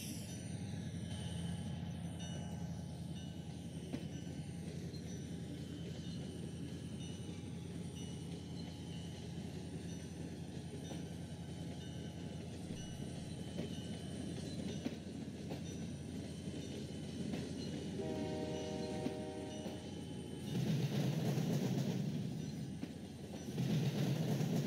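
A train in the Trainz 12 simulator runs through a local switching operation at Sebring, rolling with a continuous rumble and faint wheel squeals, then a louder burst of rail noise near the end.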